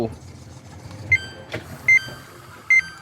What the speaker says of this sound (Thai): ดังวิทวิทวิทเสียงสายพานโดนความชื้น มันหย่อนด้วย